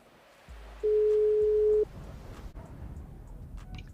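A phone call tone in the GTA RP video game: one steady electronic beep lasting about a second, loud and clean over a low, droning background hum.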